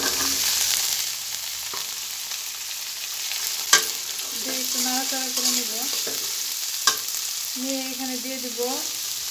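Chickpeas tipped into a pan of fried onions and stirred, a constant close sizzle with scraping stirs and two sharp clacks, while faint background music comes and goes.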